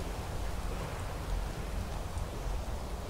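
Steady outdoor rain falls on a cold, wet night, a broad continuous hiss with soft low rumble and no distinct drops standing out, holding an even level throughout.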